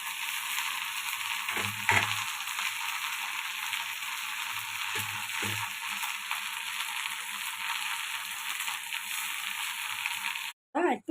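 Spices sizzle in a hot pan as they are added to okra and shrimp, giving a steady, close frying hiss broken by a few soft clunks from stirring.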